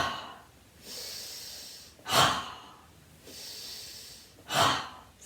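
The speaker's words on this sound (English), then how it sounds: "so let's take the chakra breaths." Yoga chakra breathing, a close alternating pattern of softer drawn-in inhales and sharp forceful nasal exhales, two full cycles in a slow, even rhythm.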